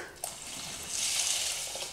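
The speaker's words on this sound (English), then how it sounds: "I'm going to add in the water and the milk" Water and milk pour into a pan for Mexican arroz con leche rice pudding, making a brief, steady splashing rush that swells slightly as the stream continues.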